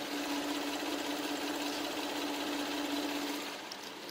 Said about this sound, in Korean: 이 정도의 엔진 소음 만나보실 수가 있고요